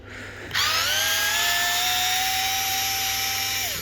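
A power tool running in reverse loosens a tight bolt on a Carbo Model X eBike, starting with a sudden whine that holds a steady high pitch for about three seconds, close and alone.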